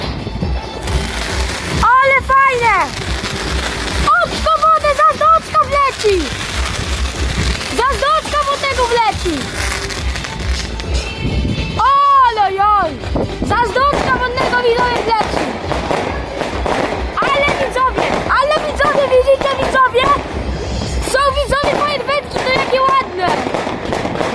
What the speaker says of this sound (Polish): Stąd się odpuszcza fajerwerki!